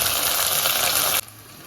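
Poppy seeds and fennel sizzle in a hot pan with a bright, steady hiss that cuts off abruptly, leaving near quiet.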